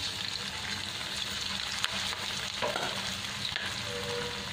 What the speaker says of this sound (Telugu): ఆయిల్ హీట్ అయిన తర్వాత ఇప్పుడు స్టవ్ని సిమ్లో పెట్టుకొని చికెన్ పీసెస్ని యాడ్ చేసుకోండి ఆయిల్లో.